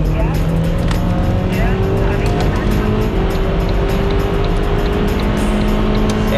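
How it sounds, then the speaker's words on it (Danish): A fast Audi TC passes in the outer lane of the Køge Bugt motorway, a loud engine drone with a rising tone and strong road and traffic roar, heard under talking voices. "Ja, der kom en Audi TC. Han gik hurtigere end de andre."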